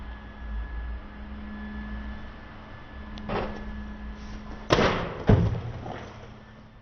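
An Amazon Fire tablet hits the floor hard, giving two sharp thuds a half second apart after a quieter knock, over a faint background hum.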